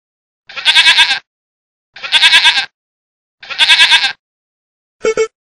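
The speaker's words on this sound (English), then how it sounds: "Goat." A goat bleats three times in loud, wavering, evenly spaced calls close by, then gives a short fourth bleat. No other sounds are heard.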